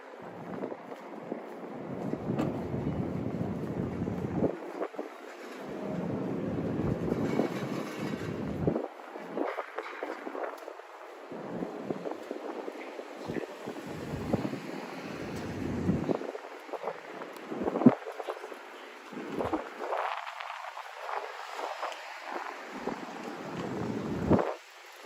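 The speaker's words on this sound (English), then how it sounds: "During the winter, is it's always crazy windy here in New York." Gusty winter wind in Midtown Manhattan, New York, at night roars steadily into the microphone, rising and falling in broad rushes with low rumbling buffeting throughout.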